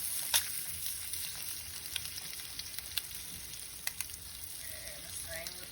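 Eggs fry over hard in a pan with a steady, quiet sizzle and crackle, with small pops and a scrape as a spatula slides under to flip them.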